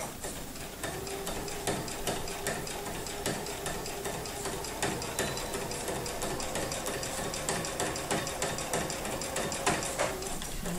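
Sewing machine stitching steadily through free motion quilting of gentle curves, a fast continuous mechanical whir with rapid needle clatter running throughout at a close, even level.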